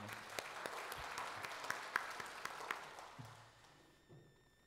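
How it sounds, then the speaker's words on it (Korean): A church congregation claps during a sermon, a moderate spread of handclaps with a few sharper single claps, fading out toward the end into near silence with faint low murmurs. "하나님께 영광의 박수 올려드립시다."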